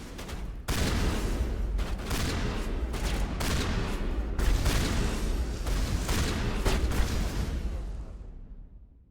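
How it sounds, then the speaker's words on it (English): Gunfire and heavy impacts in the video game Mass Effect, a sniper rifle among them, with a sharp opening crack followed by rolling booms and repeated blasts before the sound fades out. "That sniper shot wrecked him."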